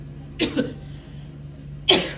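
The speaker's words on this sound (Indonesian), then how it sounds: "Gak enak amat gue lagi batuk." Two separate harsh coughs, the first a short double burst and the second stronger, with a faint hum in the background.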